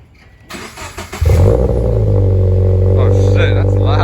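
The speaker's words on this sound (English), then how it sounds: "Alright, cold start it is." A car engine with an Invidia front pipe cranks briefly on a cold start, then catches and settles into a loud, steady idle, close by.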